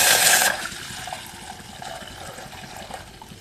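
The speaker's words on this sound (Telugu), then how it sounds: "చూడండి నేను ఇన్ని పాలు అయితే వేస్తున్నాను" Milk poured into a pan on a lit stove for payasam: a short, loud liquid rush in the first half-second, then a softer, steady trickle and simmering hiss.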